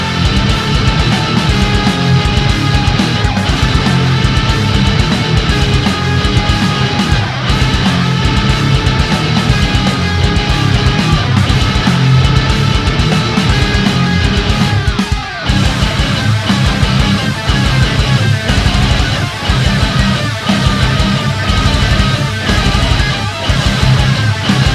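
Heavy distorted ESP LTD Les Paul-style electric guitar plays a dense metal riff, loud and continuous, with a brief break midway before it drives on.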